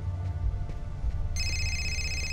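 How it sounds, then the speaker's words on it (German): A telephone rings in the PS4 video game Fahrenheit, a bright electronic trill that starts partway through and carries on steadily over a low game background hum. "Jetzt klingelt ein Telefon."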